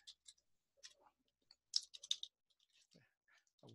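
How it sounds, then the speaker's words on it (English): A computer keyboard clicks in short, irregular bursts of keystrokes, close and fairly quiet, with brief pauses between them and a faint voice near the end. "then I'm going to type a very simple one, print,"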